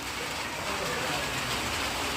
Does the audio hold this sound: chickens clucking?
no